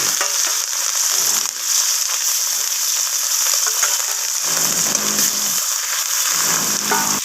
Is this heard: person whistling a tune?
no